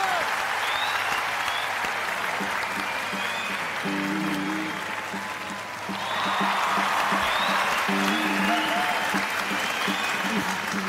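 Audience applause welcoming a singer onto a television stage, a steady, dense clapping that fills the whole stretch and swells slightly near the end, with musical tones underneath.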